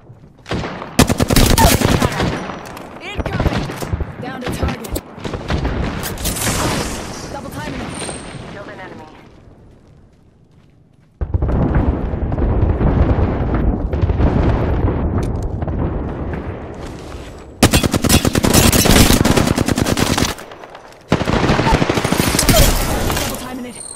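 Bursts of automatic gunfire and explosions from the video game Apex Legends, loud and close, with a pause in the middle before heavy firing resumes. Voices speak over the shooting.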